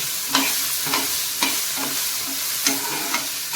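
Small green chillies frying in a pan for North Karnataka tomato chutney: a soft continuous sizzle broken by repeated scraping stirring strokes every half second or so, close by and with no talking.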